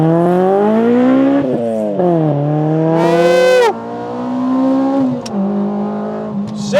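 Honda Integra Type R DC5 engine held on launch control at about 4,000 rpm, revving hard then launching, with loud rising engine notes climbing through gear changes and a brief sharp tyre squeal, close and alone without talk.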